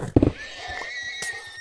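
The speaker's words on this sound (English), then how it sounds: "Yes, he killed his horse." A horse neighing in a Hunger Games video game, one short loud whinny at the start followed by a thump, with faint game ambience and a sustained tone after it.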